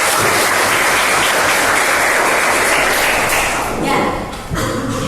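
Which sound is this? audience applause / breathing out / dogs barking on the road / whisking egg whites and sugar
audience applause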